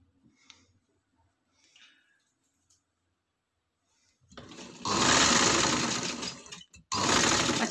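A sewing machine stitches a round sleeve onto a kurti, starting with a few faint taps, then breaking into a loud, close, continuous whirring run, a brief pause, and another burst.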